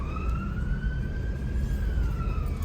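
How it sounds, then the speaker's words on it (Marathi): A police car siren wails in a long steady tone over the rumble of a moving vehicle and surrounding traffic, heard continuously at moderate distance. "सायरन वाजवता"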